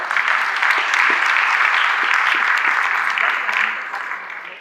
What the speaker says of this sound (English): So I was going to ask you to raise your hand and applaud, but since you did it, do it again